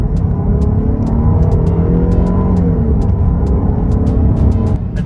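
A 2023 Jeep Grand Cherokee V6 engine drones loud and steady through the whole stretch, with a deep throaty tone shifting slightly as the revs change.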